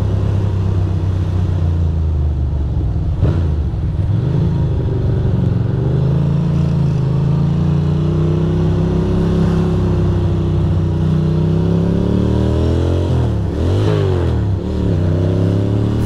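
A Ducati Monster 620 motorcycle engine accelerating up through the gears, loud and close, revs rising and dropping at each shift, with the pitch sweeping up strongly again toward the end.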